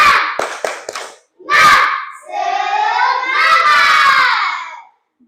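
During a classroom ice-breaking game, a group of children claps a quick rhythmic pattern and then shouts a loud chant together, close and energetic, ending in sudden silence.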